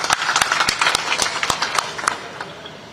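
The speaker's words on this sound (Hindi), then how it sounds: "तालियां" A small gathering at a blood donation camp claps in distinct, spaced hand claps, a sparse and fairly close applause that thins out and fades within a few seconds.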